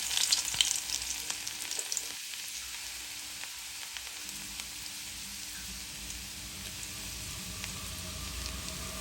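Chopped garlic fries in hot oil in a pan, a continuous crackling sizzle with a few stirring scrapes, steady and close throughout.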